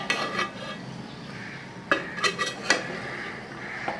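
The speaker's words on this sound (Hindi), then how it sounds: "अब हम इसे डिश आउट कर लेंगे।" Egg dum biryani is served out of a cooking pot with a metal spoon, bringing a few close, sharp clinks and scrapes of metal against the pot amid quiet kitchen noise.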